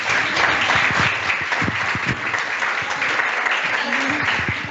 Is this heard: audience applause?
yes